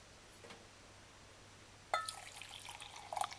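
Warm water pours onto sugar and instant yeast for a wheat pizza dough, starting after a quiet stretch as a short, close splashy pour that ends in a few drips.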